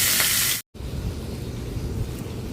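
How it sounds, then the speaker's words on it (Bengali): Fish fries in a pan of hot oil with a steady, close sizzling hiss, briefly cut off by a short gap, then continuing more softly. "তো মাছ ভাজা তো হচ্ছে"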